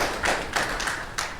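Audience applause, a short burst of claps and taps in quick irregular succession, close and moderately loud, with no speech over it.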